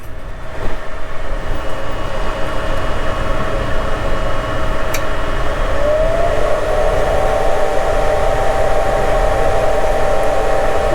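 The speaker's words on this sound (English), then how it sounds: "lift up the Z a little bit here and turn on my spindle." A CNC router spindle starts up for a cut on a guitar build, its steady whine rising in pitch around six seconds and then holding at a loud, constant high tone over a broadband machine hum.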